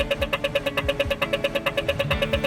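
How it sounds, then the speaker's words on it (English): Australian pedestrian crossing button gives a rapid, steady rhythmic ticking, sharp clicks repeating several times a second, with low traffic rumble and engine idling in the background. "when you stand at a street light and you press the button, you hear this rhythmic sound."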